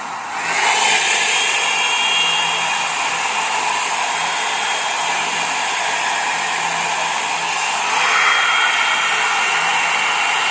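A hair dryer under repair for a no-hot-air fault runs on full heat, giving a loud, steady airy whoosh with a motor whine that swells slightly near the end.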